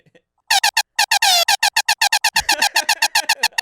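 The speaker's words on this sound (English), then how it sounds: "It's kind of a weak air horn" A rapid series of short, stuttering air horn blasts from a soundboard, loud and close, chopped into a fast rhythmic burst with one longer sustained blare early on.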